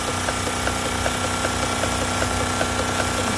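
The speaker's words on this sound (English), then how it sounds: "Not a very heavy load for this little engine." A small steam engine chugs steadily aboard an illuminated steam boat at the Thames Traditional Boat Festival, driving power for navigation and display lights, with a continuous mechanical hum and regular soft beats, close and alone.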